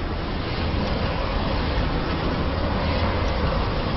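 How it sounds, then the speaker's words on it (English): Stormy water rushes through ancient acoustic stone canals at Chavín in Peru, a dense, continuous roar that stays loud and even throughout, with no voices. "the sound of water rushing past through acoustic canals"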